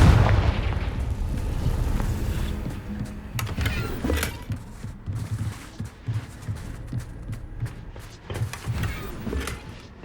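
Confringo, an explosive fire spell, blasts in Hogwarts Legacy, a dense run of loud booming bursts and crackling impacts that rumble on without pause, with no voices.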